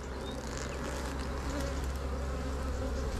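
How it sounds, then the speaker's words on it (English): Honey bees buzz around an open hive frame, a close, steady drone that hums on without a break. "No damaging the bees at all."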